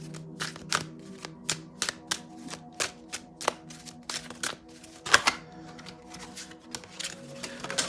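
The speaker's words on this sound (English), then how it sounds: "All these cards just fell on the floor." A deck of tarot cards is shuffled close by. Crisp, evenly spaced flicks snap one after another, with a single heavier clatter midway as cards drop, all in a quiet room.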